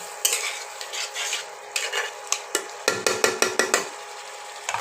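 Fried potatoes for aloo posto go into a pan and are stirred with a utensil, giving repeated scraping clatters and soft sizzling up close, with a rhythmic run of sharp metal strokes partway through and no talking.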